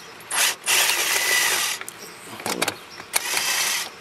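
A ratchet clicks quickly while loosening an 8mm nut inside the dashboard of a 2002–2005 Audi Allroad, close and sharp, in several short bursts with brief pauses between them.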